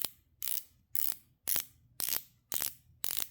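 A PVD-coated bezel on a Sheffield ALLSPORT 38mm automatic Skin Diver watch is rotated in seven crisp ratcheting clicks at a steady half-second rhythm, close up and with no talk.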